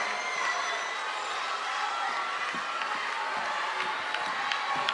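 A television singing-contest studio audience gives steady applause, a dense, even wash of clapping hands with faint cheering, held at constant level throughout.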